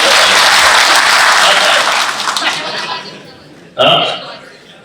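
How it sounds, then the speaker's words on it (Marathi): Crowd applause at a political election rally, dense loud clapping that fades over a few seconds, then a short burst of voice or cheering near the end. "शोभाई ताईसाठी एक टाळ्या वाजवा"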